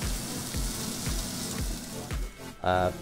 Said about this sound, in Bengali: অনিয়ন হাফ স্টিম করছি, এটা একটু তেলের মধ্যে।